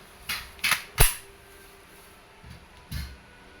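An Umarex Glock 17 Gen 5 pellet airgun fires, sharp close snapping cracks in a quick cluster of three followed by two softer clicks, with no talking.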